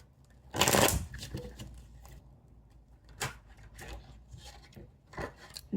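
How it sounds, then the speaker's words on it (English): Tarot cards shuffled by hand in several quick riffling bursts, the first loudest and close, followed by softer shuffles and light rubbing of the deck between them. "if these cards aren't shuffling"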